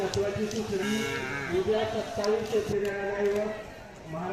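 A large Khillar bull lowing on a farm, a drawn-out moo that rises and falls for several seconds, close and fairly loud over faint background noise.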